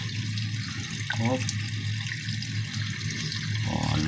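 Water gushing from a leaking pipe during load testing, a steady rushing hiss that runs continuously, with a brief voice heard over it.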